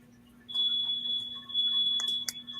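A home fire alarm sounds close by, a loud continuous high-pitched electronic tone with brief breaks, while people talk underneath it.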